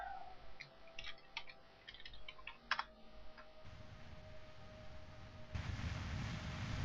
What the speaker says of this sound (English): or are you just watching me type?